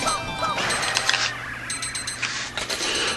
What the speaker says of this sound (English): I'm sorry, guys, my alarm went off.